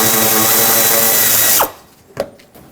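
A power tool whirs steadily and loudly as it backs out a 10mm bolt from a 2007-2014 Chevrolet Silverado 2500 HD fender liner, then stops abruptly, followed by a couple of faint clicks and clatter.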